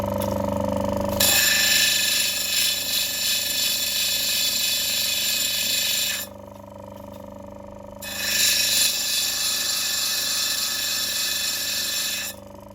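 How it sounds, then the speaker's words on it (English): Yellow opal potch ground on a 120 grit wheel, a loud steady whine with rough scraping contact that pauses briefly midway, then resumes before stopping near the end. "That 120 grit is making short work of that potch, huh?"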